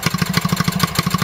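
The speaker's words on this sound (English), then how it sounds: "Right, I'm going to turn the fuel off and stop the engine now." A 1934 Villiers WX11 engine driving a dynamo runs at a steady idle, sounding as a loud, close, rapid chugging beat with a mechanical rattle on top, with no voices.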